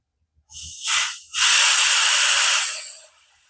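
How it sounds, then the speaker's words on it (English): Air hisses loudly out of a refrigerant recovery hose as it is purged, a close, steady rush that starts abruptly, dips briefly, then swells into a long sustained hiss before fading away. "I'm going to open up my hose and I'm going to purge the air out of this too."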